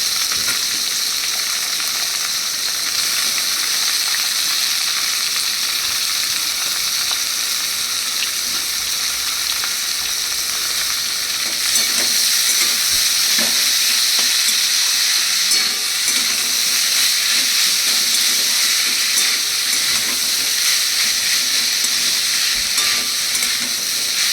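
Chopped banana flower drops into hot oil, setting off a loud, dense, continuous sizzle and hiss that swells partway through and keeps up without any talking.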